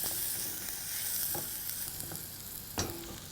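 Onions, chopped fennel and curry leaves sauté in a pan with a steady, close sizzle, broken by a few brief stirring scrapes and clinks, with no talk.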